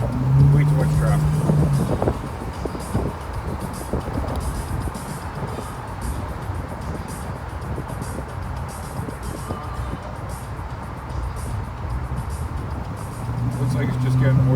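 A 1981 restomod Turbo Trans Am crawls through heavy traffic, its engine a low steady drone with surrounding cars passing, while someone talks over it throughout.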